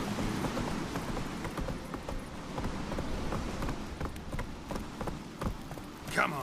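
A horse gallops in The Witcher 3, hooves drumming in a steady fast rhythm, with a voice speaking over the hoofbeats.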